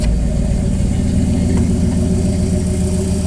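A Winnebago motorhome engine idling steadily and loudly up close after an overheating fix, a low, even rumble that holds without revving.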